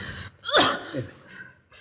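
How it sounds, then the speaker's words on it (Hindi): A woman with a bad cold sneezes once, loud and close: a sharp gasping intake, then the sneeze and a softer sniffing breath afterward. "सवेरे से छींके चली जा रही हो"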